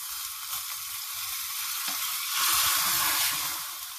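Hot tempering with red chilli, just off the flame, poured into a bathua raita, giving a bright hissing sizzle that swells midway and then settles, close up, no speech.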